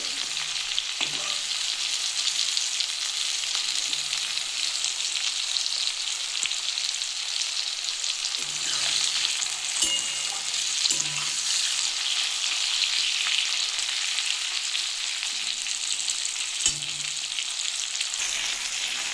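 Flat beans fry in hot oil in a pan for a bean paturi dish, making a steady, close sizzle that hisses on without a break, with occasional soft clicks from stirring.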